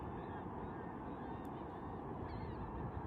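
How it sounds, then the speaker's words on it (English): Birds honk outdoors on a beach at Pawleys Island, a few rough calls rising faintly over a steady, loud wash of surf and wind that fills the whole stretch. "Hey, pretty birds."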